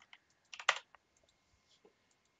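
Fingers tapping a computer keyboard in a quiet room, a short burst of several quick clicks near the middle with a few isolated keystrokes before and after.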